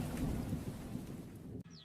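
A thunderstorm with heavy rain: a steady, dense roar of rainfall over a low rumble of thunder, continuous and fairly close, then cutting off abruptly near the end. No voices.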